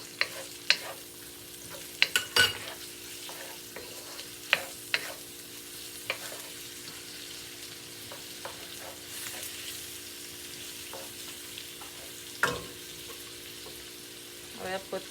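Onion and garlic fry in a pan for a noodle chop suey, a steady soft sizzle broken by scattered clattering knocks of a utensil stirring against the pan, close and moderately loud.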